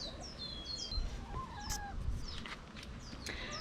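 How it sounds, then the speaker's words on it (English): Small birds thought to be goldfinches chirping in a late-summer garden, a flurry of quick high twittering calls overlapping one another over a soft outdoor background. "We have some beautiful birds up there. I think that they're goldfinches."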